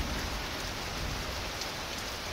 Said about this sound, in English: Thank goodness we're finally getting some real rain.